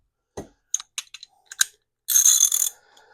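A breaker bar with a 3/4-inch socket works on old bolts holding the guard of a Gravely circular saw attachment, giving several sharp metallic clicks and knocks followed by a longer grinding ratchet-like burst, close and alone.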